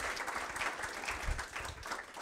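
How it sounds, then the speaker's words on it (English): Applause from an audience at the close of a talk on industrial 3D printing, a steady dense patter of many hands clapping at moderate level for about two seconds, with no speech over it. "Round of applause for Chuck and Jordan."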